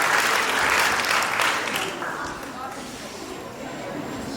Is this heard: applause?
yes